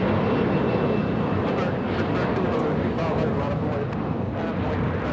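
A Boeing 767 airliner at LAX produces a broad, steady jet engine roar, with someone talking over it throughout.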